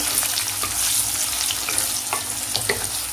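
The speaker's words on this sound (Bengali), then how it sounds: "এখন আমার পনিরটা ভাজা হয়ে গেছে, প্রায় হালকা লালচে কালার করে নিয়েছি" Paneer fries in oil in a pan, giving a steady loud sizzle with crackling pops and the occasional stirring scrape. Nobody speaks.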